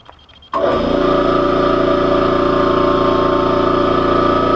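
A 1966 Briggs & Stratton small engine fires up after a brief quiet moment and runs steadily and loudly close by, a continuous rough idle with no talk over it.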